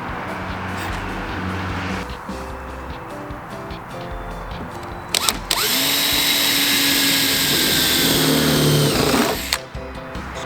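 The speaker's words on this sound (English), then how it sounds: "then I'll drill holes" A power drill bores holes to mount police car lights, a loud steady whine starting about midway and running several seconds, preceded by quieter workshop background.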